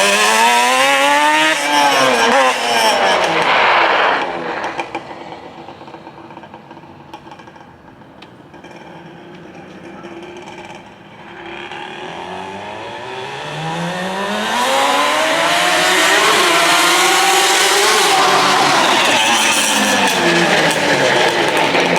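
A Yamaha Banshee two-stroke engine revs loud and close during a ride, pitch sweeping up and down through repeated throttle blips, dipping quieter mid-way before roaring back to full revs.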